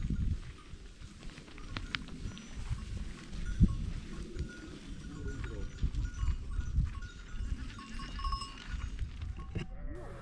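A flock of sheep on a Brenta Dolomites mountain trail bleats at moderate distance, with hoof clatter, a clinking bell and people talking over the animals.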